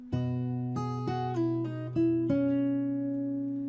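Fingerstyle acoustic guitar plays a short passage from a song, several plucked notes and chords ringing out cleanly in a close, solo phrase that sustains and fades at the end.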